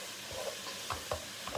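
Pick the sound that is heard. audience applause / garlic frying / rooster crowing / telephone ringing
garlic frying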